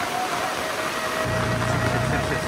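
A pickup truck engine labours up a slippery hill road at Muaro Aie, droning steadily and then deepening into a heavier low rumble partway through.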